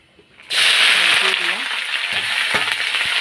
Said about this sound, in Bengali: কালো জিরা ফোড়ন দিয়ে দিয়েছি তেলের উপরে